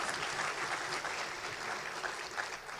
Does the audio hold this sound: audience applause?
yes